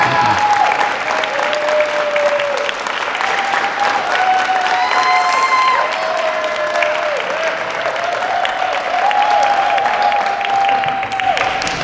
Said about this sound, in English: let's start off with just an applause for these young men